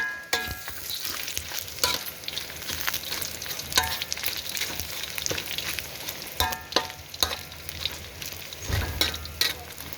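Pork pieces frying in oil in a pan as crispy pork is cooked for a Chinese bitter melon stir-fry, with a steady sizzle broken by clattering stirs and scrapes of a utensil, close up and without talk.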